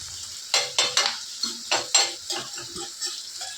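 Egg tomato curry frying and being stirred in a pan, with several close, rhythmic scraping strokes of a utensil over a soft background sizzle.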